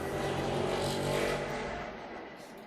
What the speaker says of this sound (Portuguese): A moto bem barulhenta.